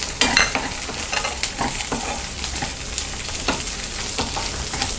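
Ivy gourd sautéing with tamarind in a pan gives a dense, constant sizzle and crackle throughout, with frequent scraping stirs of a spatula close by.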